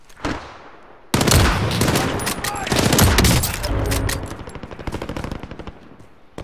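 Rapid gunfire in the video game Warzone: a short burst, then a sustained automatic volley with a cluster of shots that thins into scattered cracks toward the end. Faint voices sit under it.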